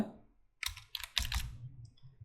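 Typing on a computer keyboard while entering a search for collage photo frames, a few quick bursts of close, crisp key clicks separated by short pauses.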